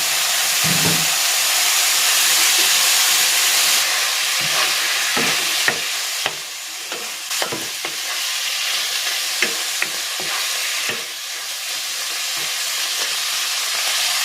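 Chicken liver hits a pan with boiled chicken breast and fries, a loud steady sizzle with scattered clicks and scrapes of stirring throughout, close by.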